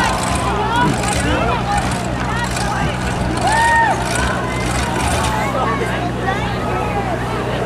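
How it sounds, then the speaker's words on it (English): Pickup trucks slam into each other at a demolition derby at a fall fair, with heavy impacts and engine rumble under a constant crowd hubbub and an announcer's voice. "This truck number 5 is trying to keep 86 against the tires, so he keeps hitting them"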